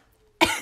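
A single sharp cough breaks a near-silent room, loud and close, with a quick burst that trails off within a fraction of a second.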